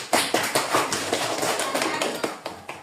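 Classroom applause for a student group after a presentation in an Islamic religious education lesson, a ragged burst of clapping that rises sharply and then thins out over a few seconds, close and fairly loud, with no talking.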